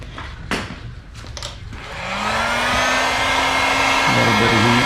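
A heat gun warms the vinyl graphics on a Honda TRX450R ATV, switching on after a few soft handling noises and then holding a steady, loud airy whoosh with a faint whine.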